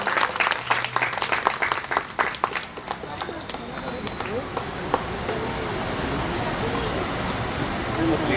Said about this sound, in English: Please give him a round of applause, please, guys.